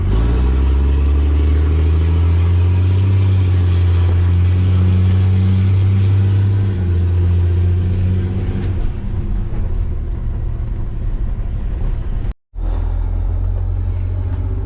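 Newell motorhome coach driving on the road, heard from inside as a loud, steady low engine rumble and road drone with a brief cut near the end.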